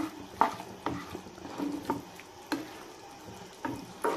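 Sweet pumpkin curry with jaggery, curry leaves, dried red chillies and crushed garlic cooking in a pan, a spoon scraping and stirring at an uneven pace over a soft, steady sizzle.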